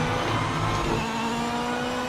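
A race car engine drones steadily and loudly in the Project Motor Racing sim as the car runs side by side past a Corvette, a continuous near roar with no break.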